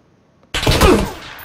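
Gunfire in the video game PUBG erupts suddenly after a near-silent moment, a loud close burst of shots that then fades out.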